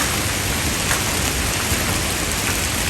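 Heavy rain from Hurricane Helene pours down in a dense, unbroken hiss that stays even and loud from start to finish, with no voices.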